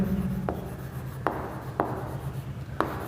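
Marker or chalk writing on a board during a physics lecture, with light scratchy strokes and a few distinct taps as the tool meets the surface, set against a steady room hum and no talk.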